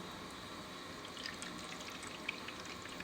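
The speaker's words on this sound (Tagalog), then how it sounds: "we'll put some cold water." Cold water poured into a lemon and chia seed drink with honey, a steady, even splash of liquid filling a container, close and continuous with no talking.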